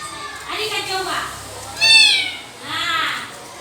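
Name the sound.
child imitating a cat meowing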